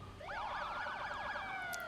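Police car siren from the Marvel's Spider-Man video game, a loud wailing electronic sweep repeating quickly over about two seconds with no talk.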